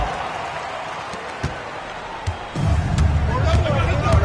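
Virtual crowd noise rises in an NBA 2K26 basketball game, a murmur that swells into louder cheering and clapping partway through. It sits under ongoing broadcast-style commentary, with a few sharp court thuds.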